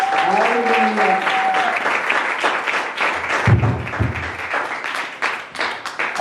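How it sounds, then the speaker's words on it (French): A church congregation applauding loudly together during a service, a sustained dense wash of clapping with a brief tone and a few thumps early on. "Est-ce qu'on peut acclamer très fort la parole de Dieu?"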